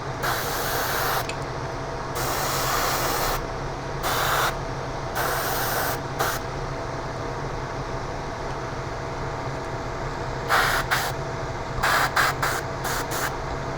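An airbrush sprays paint onto a Tamiya 1/24 Vaillant Porsche 934 model kit in loud, hissing bursts of a second or two each, broken by pauses and ending in a run of short quick puffs.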